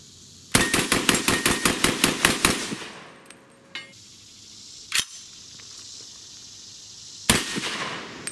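A Ruger Mini 30 rifle fires a rapid string of about a dozen sharp, loud shots, followed after a pause by two more separate cracks, all close by and with no talk.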